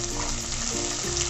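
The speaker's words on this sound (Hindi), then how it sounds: "अब हम हमारे कढ़ाई में डालेंगे कटा हुआ अदरक, लहसुन की कलियां" Chopped ginger and garlic cloves fry in hot oil in a kadhai, a dense, steady sizzle that stays loud and even throughout the brief moment.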